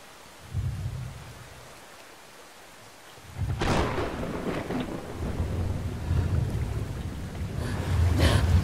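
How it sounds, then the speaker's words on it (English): A video game thunderstorm in Brothers: A Tale of Two Sons has steady rain and wind, with rumbles of thunder and sharp lightning cracks that build from faint to loud over the clip. "lightning strikes"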